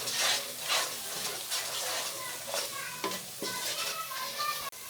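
Fish korma in a pan being stirred with red chilli powder, turmeric and dry coriander powder, giving a steady soft sizzle broken by scraping spoon strokes against the pan, with a sharp clink near the end.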